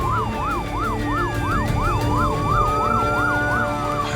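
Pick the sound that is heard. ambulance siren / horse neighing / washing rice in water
ambulance siren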